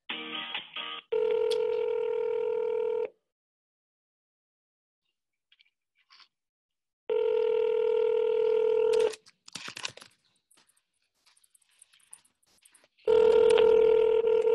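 During a sales call being transferred to voicemail, a telephone line gives three loud, steady tone bursts separated by silence, with faint clicks and brief handling noises between them and no talk.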